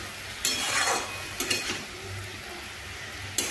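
A utensil stirs red amaranth greens with salt and turmeric in a pan, with eggplant and potato nearby. Soft scraping and a light sizzle are punctuated by three sharp clinks against the pan. No one speaks.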